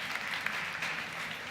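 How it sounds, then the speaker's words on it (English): A conference crowd claps in a brief, dense, even burst of applause, heard at moderate distance with no speech over it. "You can clap."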